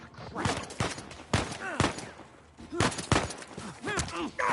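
Sniper gunfire in the video game Uncharted 4: several sharp shots and bursts crack out over about four and a half seconds, with chaotic in-game voices and groans mixed between them.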